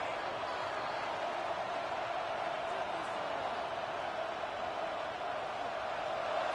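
A stadium crowd in a college football video game, Oklahoma against Tennessee, roars as a steady, dense wall of noise that holds level the whole time with no breaks.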